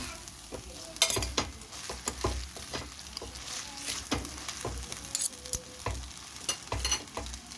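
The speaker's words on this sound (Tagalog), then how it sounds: "At halo-haluin natin." Pancit canton noodles are stirred in a sizzling frying pan, with repeated scraping and clinking strokes over a constant fry, close and fairly loud.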